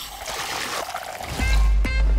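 Beer is poured into several glasses at a pub, a short liquid trickle and splash that swells louder toward the end, with faint background murmur.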